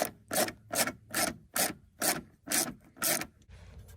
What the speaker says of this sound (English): You just got 3 10mm bolts. They pop out and your whole headlight comes out.